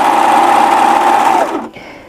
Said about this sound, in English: I've got my serger set up already with white thread